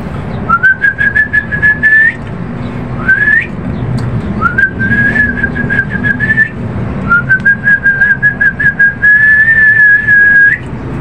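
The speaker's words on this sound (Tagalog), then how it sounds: "O, ganon yung sipol ko," Close, clear whistling to pet lovebirds in a series of sustained high notes, several rising at the start, repeated five times with short pauses between them.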